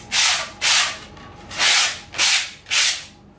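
A hot-wire-cut foam wing core is sanded by hand in straight lines, giving five distinct, close scratchy rubbing strokes in a steady back-and-forth rhythm, with short pauses between them.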